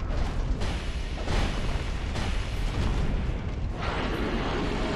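Heavy fiery explosions roar during the Smelter Demon boss fight in Dark Souls 2, a dense run of booming bursts that swell in waves with little pause between them.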